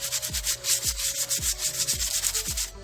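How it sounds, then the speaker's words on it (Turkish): Coarse P80 sandpaper rubs back and forth across bamboo furniture in a regular rhythm of about five close, scratchy strokes. "şimdi şöyle pürüzlü yerleri şöyle zımparayla da düzeltebilirsiniz"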